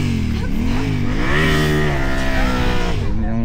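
Motorcycle engine revving on a Mongolia motorcycle rally in the mini Gobi Desert, a loud, steady, close engine whose pitch rises and falls through several rev changes and continues throughout without talk.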